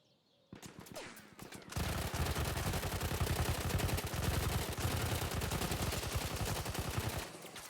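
Sustained fully automatic gunfire from a weapon in Battlefield, a dense rapid stream of close, loud shots running for several seconds after a brief quieter opening.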